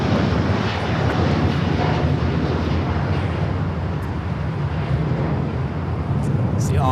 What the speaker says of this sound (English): See, Dreamliner heading back to Tel Aviv, flight 6.